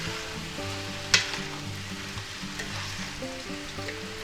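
Angel hair spaghetti is stirred into a frying smoked ham frittata mix, a soft continuous sizzle with a sharp utensil tap early on and light scraping over low background music.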